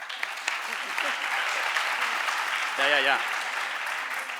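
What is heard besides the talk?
audience applauding at a talk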